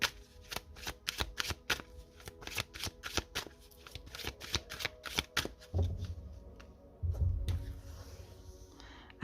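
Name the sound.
tarot cards being shuffled and laid out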